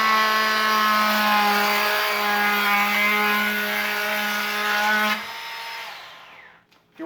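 Bosch 12V cordless brushless trim router cutting walnut: a loud, steady high-pitched whine with a constant tone, winding down near the end and leaving brief quiet.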